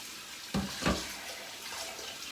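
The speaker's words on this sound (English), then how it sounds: "I'm gonna get that filled with hot water." Hot tap water runs into a cold bowl in a home kitchen, a steady faucet stream with a couple of splashy surges near the start, fairly soft and close.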